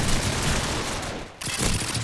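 Dense, rapid gunfire in the video game Call of Duty rattles loudly in continuous bursts, with a brief gap before the shooting resumes.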